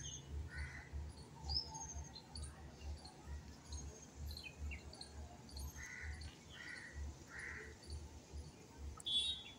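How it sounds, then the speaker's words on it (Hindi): Birds chirping outdoors, far off and faint: scattered short calls above a steady gusting wind rumble, with no talking. "चिड़ियों को बोलने की आवाज भी आ रही है।"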